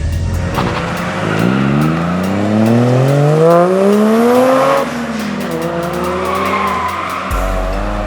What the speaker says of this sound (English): all the cars here went for a warm-up run to warm their tires up.